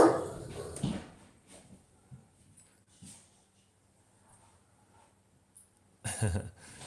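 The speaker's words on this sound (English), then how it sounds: "He sees them. He's gonna start barking." A dog barks in a short burst, then the scene goes quiet before another loud round of barking near the end.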